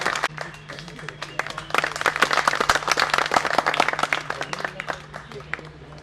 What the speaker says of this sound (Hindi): एक बार ताली बजाइए, हमारे कलाकार का हौसला बढ़ाइए।